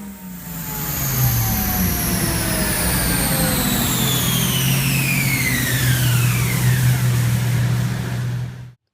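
A Toyota Supra running its stock twin turbos on 93 octane roars through a long, loud rev sweep on a dyno, the tone climbing steadily for several seconds before cutting off abruptly.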